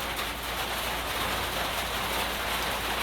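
Rain falls steadily outdoors, a continuous broadband patter at even loudness with no voices over it.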